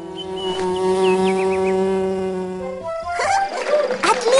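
A cartoon bee in a Luntik video game hums steadily while gathering nectar, with a sustained, tonal, melodic buzz that is close and loud, followed by a burst of brighter chirpy game sounds.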